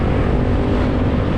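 A motorbike rides at midday through Lodtunduh near Ubud, Bali, its engine a steady, close, loud broadband rumble with wind noise that continues without a break for the whole moment.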